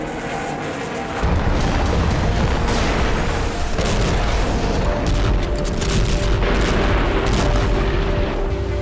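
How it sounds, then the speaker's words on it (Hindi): Ukrainian strikes in Crimea cause a loud, dense rumble of blasts and booms that begins abruptly after a quieter opening and continues as a sustained roar with overlapping bursts, with no talk. "अब क्रीमिया और बर्दियांस्क में यूक्रेन ने इन सिस्टम से कई धमाके किए हैं।"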